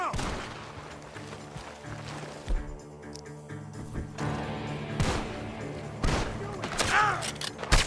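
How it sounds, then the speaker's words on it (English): Gunfire rings out from a barn during a Red Dead Redemption 2 gameplay scene, a volley of sharp, loud shots and crashes over dense game sound, with cracks recurring through the clip. "The gunshots are coming from that barn!"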